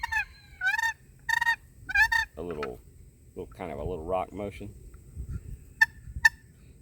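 A hand-held goose call played in a long-call sequence: four loud, close honks in a quick rhythm, then someone speaking, then two short sharp notes.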